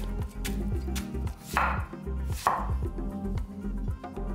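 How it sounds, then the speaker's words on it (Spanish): A knife chops onion, tomatoes and zucchini for a zucchini stew, a few crisp cuts on a board standing out over steady background music. "Vamos a cortar la cebolla, los jitomates, las calabacitas"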